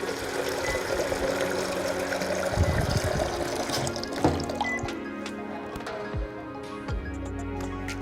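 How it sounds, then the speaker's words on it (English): Water from a kitchen sink tap runs and splashes into a container, a continuous bright rushing stream with clinks and bumps of handling partway through, then the flow changes pitch near the end as it fills. "I have to walk over to the sink and get some water"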